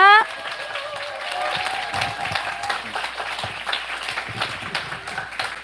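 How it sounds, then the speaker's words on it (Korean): A seminar audience at a business centre gives a speaker a welcoming round of applause, a dense steady clapping of many hands that follows a short loud burst at the start. "500만 장자 프레지덴셜 앰버서더 이병진 사장님 오실 때 큰 박수 부탁드립니다"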